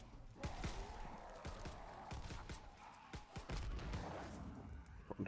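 Explosions and gunfire from the video game Call of Duty: WWII Zombies mode: a rapid series of sharp blasts and shots, some in quick bursts, over a low rumble, ending in a last loud bang.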